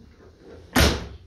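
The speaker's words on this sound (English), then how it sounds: "Doors closed, open easy." A single solid slam of a car door closing on a 1978 Pontiac Grand Prix with a V8, a sharp, heavy thud heard close against quiet outdoor background.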